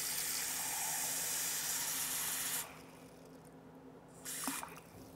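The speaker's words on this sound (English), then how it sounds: "So I'm gonna add 1 cup of water here." Water poured from a cup into a cooking pot while making plant-based macaroni and cheese, a steady splashing pour that stops partway, followed by a brief faint splash.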